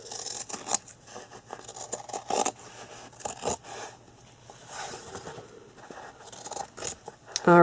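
Scissors trim the edges of a soft journal cover in a series of intermittent snips and scraping cuts, close and fairly quiet, with brief pauses between the cuts.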